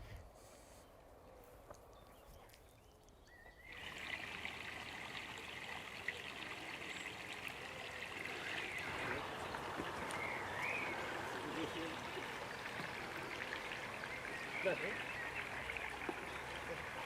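Water trickles steadily in a garden pond made for a Labrador, a continuous soft babble that swells after a few seconds, with faint background sounds.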